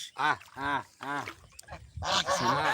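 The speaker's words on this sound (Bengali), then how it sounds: "দেখেন রাজহাঁস" Domestic geese honk and call in a quick run of loud, nasal bursts near a fishing spot with Chinese dori nets, followed by a more crowded, overlapping burst of honking.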